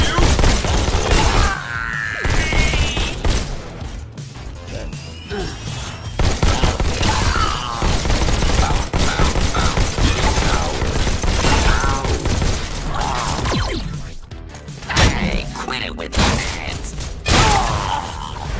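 Shotgun blasts from a rogue bot in the VR shooter Robo Recall, loud bursts mixed with mechanical clanks, impacts and game effects in a busy, continuous battle soundscape.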